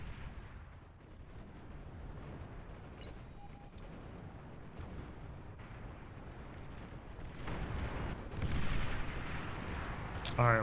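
Artillery units fire in the real-time strategy game Beyond All Reason, a continuous rumbling barrage of low booms and bursts that swells louder toward the end, with a sharper shot at the close.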